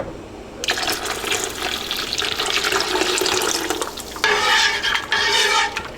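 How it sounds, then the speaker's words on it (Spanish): Water poured into a pot of boiling meatball soup, caldo de albóndigas, a steady splashing pour that runs for several seconds and grows louder and brighter toward the end, with no talk over it. "Le voy a agregar el agua que me falta, que son otras 4 tazas de agua."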